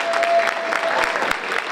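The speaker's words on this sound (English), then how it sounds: "let's give her a round of applause." An audience at a women of color entrepreneur conference applauds a keynote speaker in a short burst of brisk, lively clapping that stays loud throughout.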